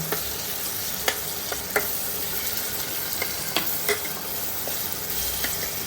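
Turmeric, chili and coriander powder frying in oil, a loud continuous sizzle with scattered sharp taps and scrapes of a spoon against the pan.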